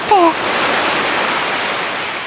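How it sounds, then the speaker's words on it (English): Seashell held to the ear in a video game, giving a loud, continuous hiss of ocean waves like distant surf, rising immediately after a short chime and holding steady throughout. "That's the sound of the waves."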